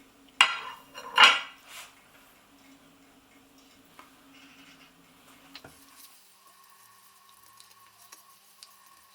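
Vegan burger patties made from smoked tofu, kidney beans and sweet potato are set down onto a floured plate, giving two close dull thumps near the start, then faint scattered taps and clinks over a quiet kitchen hum.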